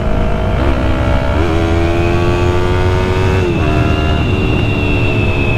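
A Yamaha MT-03 motorcycle running on a cheap aftermarket exhaust, loud and close, with a steady droning engine note that rises and dips slightly with throttle, alone without voices.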